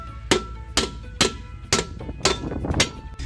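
A hammer strikes a brake drum on a K11 Micra rear axle, seven loud metallic blows at a steady, roughly half-second pace, close up with a short ring after each hit and no talk.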